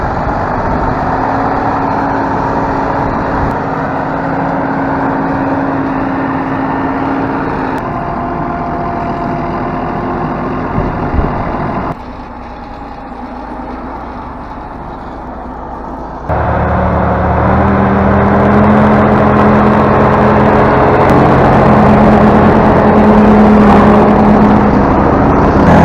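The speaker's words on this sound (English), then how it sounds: "Kiravets 701, with a 300 horsepower engine, suddenly got stuck, roaring violently in an attempt to get out of the deep mud." A 300-horsepower Kirovets 701 tractor stuck in deep mud roars loudly and continuously. The engine note holds steady, dips briefly, then climbs again to a stronger, rising drone.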